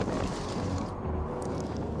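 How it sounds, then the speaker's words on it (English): Strong gusty wind buffeting close by at a high, exposed spot in Yosemite, a rough low rumble with no voices. "a little windy up here"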